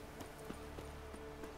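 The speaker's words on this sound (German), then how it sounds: "Mit diesem Pferd. Das ist mein Pferd." Horse hooves in The Witcher 3 video game, a faint, steady run of evenly spaced hoof beats at a quick gallop pace, heard distantly under a low background hum.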